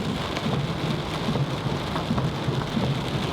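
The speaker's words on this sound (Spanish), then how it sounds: "vivimos nuestra primera tormenta tropical en Costa Rica" A tropical thunderstorm in Costa Rica: heavy rain pours steadily and densely, with a low rumble of thunder underneath, close and continuous with no voices.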